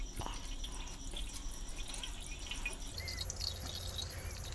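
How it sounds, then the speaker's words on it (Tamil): Water is poured into a fish tank built from a tube light, giving a steady close trickle and splash with light dripping that shifts toward a fuller gurgle near the end. "இந்த டியூப்லைட்டுக்கு 3/4 அளவுக்கு நம்ம சூப்பராக தண்ணி ஊற்றிட்டோம்"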